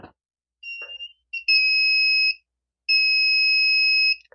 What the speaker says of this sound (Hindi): बजर या कंटिन्यूटी या फिर डायोड मोड में सेट कर लो।